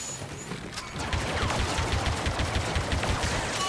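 Lando's semi-automatic blaster in Star Wars Battlefront 2 fires a rapid run of sharp, close shots after a brief pause, with game background noise underneath.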